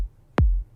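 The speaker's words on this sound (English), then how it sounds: "The first kick sounds like this. I call it the kick top." One punchy kick drum sample, the top layer of a stacked trap-pop kick. It is a single sharp click-like attack that drops into a short low thump, isolated with silence around it.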